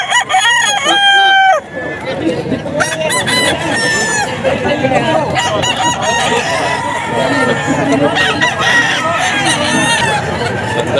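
Several roosters crow loudly and repeatedly at a gamecock market in Bocaue, with overlapping calls and clucks over constant crowd babble and nearby talking.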